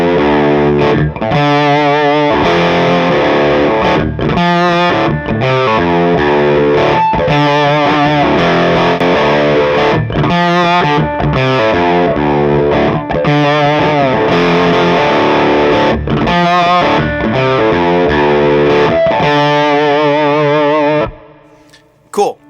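A distorted electric guitar riff is played through a Righteous Sound 1018 bridge pickup: loud, chunky chords and palm-muted notes in a driving rhythm, ending abruptly with a brief trailing noise.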